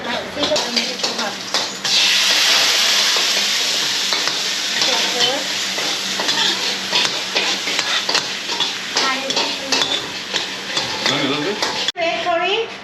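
Thai red curry cooks hot in a pan with a loud continuous sizzling hiss and stirring, close by, while adults and someone talk over it and pans clatter briefly near the end.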